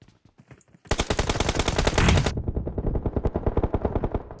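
PUBG Mobile gunfire: a loud, rapid automatic burst of closely spaced shots that continues for several seconds, preceded by a few fainter shots and followed by steady repeated firing.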